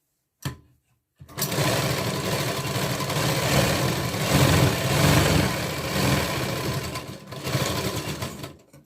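A sewing machine stitching a katori blouse starts with a brief click, then runs in one continuous, close whirring burst of about seven seconds before stopping.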